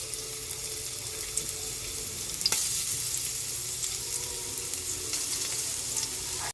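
Garlic sizzles in hot oil in a pan for a bitter gourd stir-fry, a continuous bright frying hiss with a brief clatter midway and a sharp knock at the end.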